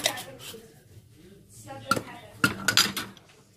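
A marinade mixed in a bowl with honey, garlic and black pepper: a spoon clinks and scrapes against the bowl in several sharp, close knocks, with talk in the room now and then.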